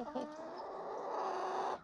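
A single chicken gives a drawn-out cluck close by, fairly quiet and alone.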